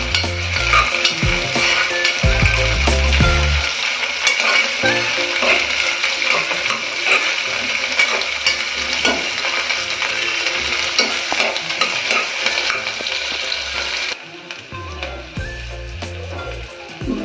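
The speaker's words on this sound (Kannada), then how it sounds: "ಕರಿಬೇವು, ಮೀಡಿಯಂ ಫ್ಲೇಮಲ್ಲಿ ಹುರ್ಕೊಳ್ಳಿ ಚೆನ್ನಾಗಿ" Curry leaves frying in oil on a medium flame for mutton curry, a loud, dense crackling sizzle that stays strong throughout, with a few low thumps and a short quieter stretch near the end.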